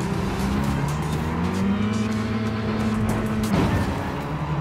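A car engine in Forza Horizon strains at full throttle up a hill, its steady droning note climbing slowly in pitch, with faint tire noise and no talking.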